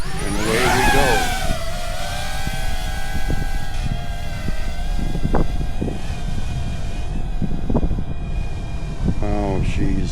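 A DJI Avata 2 FPV drone's motors spin up with a rising whine, then hold a loud, steady buzzing hum in flight in high wind, with a voice speaking at moments.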